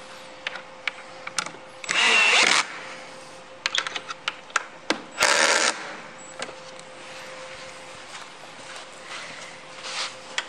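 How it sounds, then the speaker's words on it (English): A power drill drives screws into a chicken coop in two short, loud whirring bursts, with light clicks and handling noises in between and no talk. "now you can finally go around the edges and tighten up your screws."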